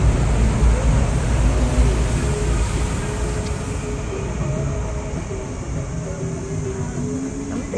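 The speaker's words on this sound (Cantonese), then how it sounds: "望住呢個地鐵嚟緊啊" A Hong Kong MTR train pulls in near Wong Chuk Hang station, heard from an outdoor hotel terrace as a steady, loud rolling rumble with faint tonal whine, holding for several seconds and easing slightly toward the end.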